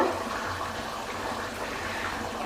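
Soaked tamarind water poured into a pot of cowpea stew, a continuous close rushing splash of liquid at steady volume for the whole stretch, with no voices.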